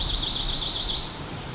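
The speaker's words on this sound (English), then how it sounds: "So this pine warbler in the red pine is next to Highway 6." A rapid, even trill of a pine warbler in a red pine rings out for about a second over a steady background rumble of highway traffic.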